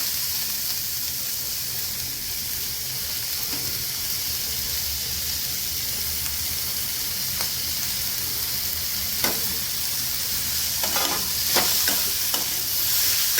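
Cabbage stir-frying in hot oil for vegetable Maggi noodles, a steady close sizzle with scraping stirs and a few sharper crackles near the end, no voices.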